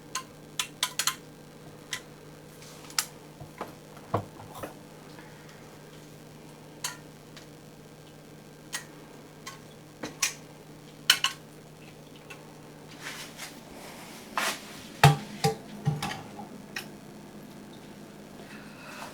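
Ball jar lids on jars of home-canned chicken pop as they seal while cooling on towels, a scattering of faint, sharp clicks at irregular intervals over quiet room tone, a few louder ones bunched together late on.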